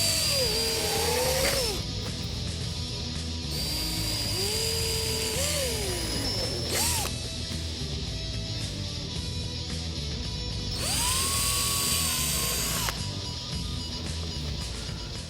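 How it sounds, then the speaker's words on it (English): Power drill with a 3/16 bit boring holes in a Mustang lower grille, whining bursts that rise and fall in pitch with long steady stretches between, close and moderately loud over faint background noise. "we're going to drill out the holes"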